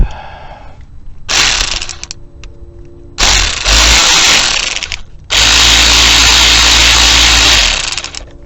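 Power tool running up T25 transmission pan bolts on a 2005 Dodge Dakota 3.7 automatic, three loud close bursts of whirring, the last one long and steady, with short gaps between.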